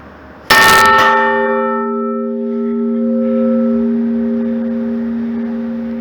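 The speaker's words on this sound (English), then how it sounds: "we were going to ring the bell" One loud strike of the church bell in the tower at Birkenhead Priory, a sharp clang followed by a long ringing hum that slowly fades, with no talk.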